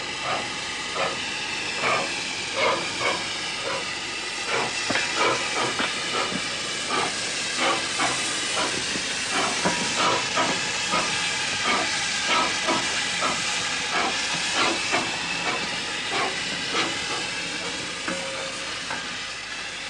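A Stephenson's Rocket replica steam locomotive chuffs in a steady, rhythmic series of loud steam blasts over a continuous hiss, each exhaust beat evenly spaced for about twenty seconds.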